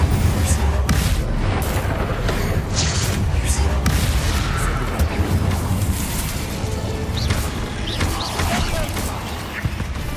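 Spell casting and blasts in the wizarding game Hogwarts Legacy: a dense, continuous barrage of booms, crashes and magical bursts fills the whole stretch, loud and busy, with some voices mixed in underneath.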